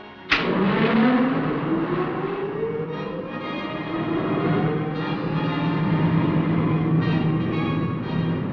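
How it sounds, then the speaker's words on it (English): Engines of the Supercar aircraft from the puppet series run up on the ground before takeoff: a sharp start, then a loud, steady rising whine with a low drone that holds alone throughout. "may as well run the engines up while we're waiting"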